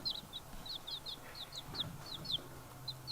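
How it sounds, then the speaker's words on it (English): Young Bielefelder chicks peep repeatedly in a pen, a steady run of faint high chirps at an irregular quick rhythm over low background noise. "The chicks are doing perfect and they're growing up fast."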